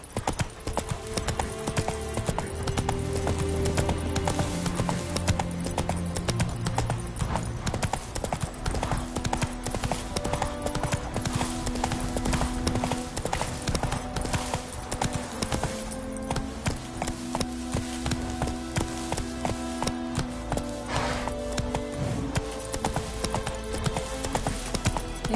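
Roach the horse gallops in the video game The Witcher 3 Wild Hunt. A fast, unbroken patter of hooves runs throughout beneath loud, continuous orchestral music.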